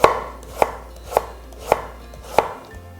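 A knife julienning a carrot on a cutting board gives five crisp, evenly spaced chops, close and clear, with quiet pauses between strokes and no talking.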